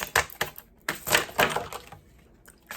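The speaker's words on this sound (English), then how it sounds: "These cards are so hard to shuffle, they're huge." Large oversized animal oracle cards being shuffled by hand, a series of crisp papery riffles and slaps in short bursts with brief pauses between, close and fairly quiet.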